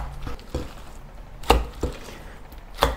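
Minced chicken for dumplings with shiitake mushrooms being lifted and thrown back into a bowl, a series of heavy wet slaps and thuds at irregular intervals, close and alone.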